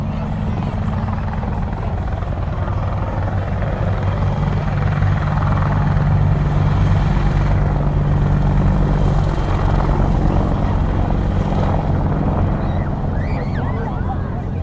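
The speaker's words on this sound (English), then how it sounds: "the Apache will zoom in with its weapons ready to bear, establish itself in a high hover" An Army Air Corps Apache attack helicopter flying in and holding a high hover at an airshow, its loud, steady rotor thrum and engine whine dominating throughout, with an announcer talking over it.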